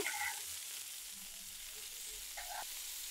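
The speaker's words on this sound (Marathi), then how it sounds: "आता सगळे पीस मी हळूहळू परतून घेते" Fish pieces fry in a pan and are turned over one by one, a soft constant sizzle with a few faint clinks of a utensil against the pan.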